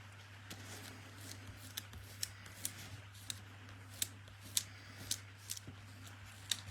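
A layer is peeled carefully off a sheet of card, a soft continuous background broken by a series of small crisp ticks and crackles at irregular intervals, quiet and close.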